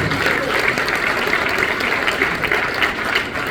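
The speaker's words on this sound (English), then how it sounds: "A big round of applause for Natalie Sharp" An audience at a live jazz set claps steadily for saxophone players, a dense, even patter of applause without a break.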